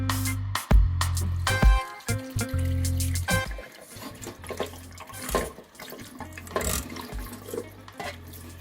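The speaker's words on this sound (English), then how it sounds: "I'm going to give the fish pieces a rinse, and I'm rinsing it in this colander" Running tap water splashes steadily onto salmon pieces in a colander, with brief interruptions and changes in flow as pieces are rinsed.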